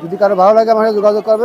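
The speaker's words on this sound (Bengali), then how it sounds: "পিওর সুয়া কবুতর।" Pigeon at a pigeon market in Khulna cooing in a low, rolling call that repeats across the moment, close and loud while someone speaks over it.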